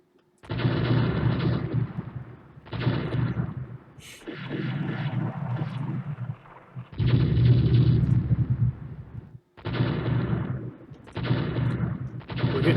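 A light cruiser's 6-inch naval guns fire in the Rule the Waves warship game, in repeated loud, booming salvos about a second or two long, separated by brief gaps, with no voices.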